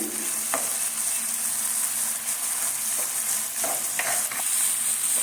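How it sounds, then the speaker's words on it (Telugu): Grated carrot fries in a pan for aloo masala dosa filling, with a steady close sizzle and a few soft stirring scrapes. "క్యారెట్ తురుము పచ్చివాసన పోయేంత వరకు ఇలా రెండు నిమిషాలు అలా వేయించుకున్నామండి"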